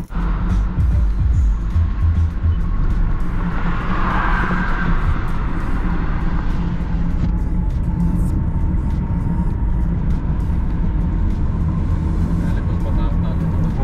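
A Toyota Camry with a CVT gearbox drives and accelerates, its engine and road noise a loud, steady rumble inside the cabin while people talk over it.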